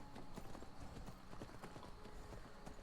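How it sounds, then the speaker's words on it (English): Horse hooves clip-clop steadily in the Skyrim video game, a quick regular rhythm of hollow knocks, close and continuous over a faint background. "Let me get off my horse."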